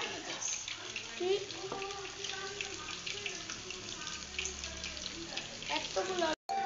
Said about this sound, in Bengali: এখন ললিপপ গুলো এখন ভাজবে, গরম তেলে দিয়ে ভাজবো।